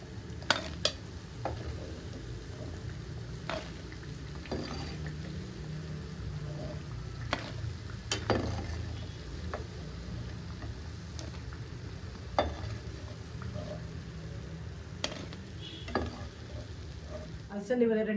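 Alasande vada, black-eyed pea fritters, sizzle steadily in hot oil, a continuous bubbling hiss broken by sharp clicks and clinks of a utensil against the pan now and then.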